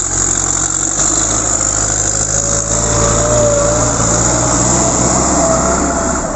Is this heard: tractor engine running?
yes